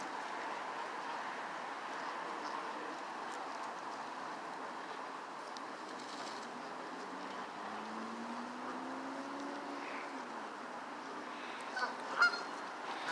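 A city flock of geese and ducks in Boston, with a few scattered honks over steady outdoor background noise and a sharper call near the end.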